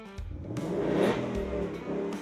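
A Ford Mustang engine revs up and eases back in its loud truck exhaust mode, a close, sustained growl that swells to a peak and then settles.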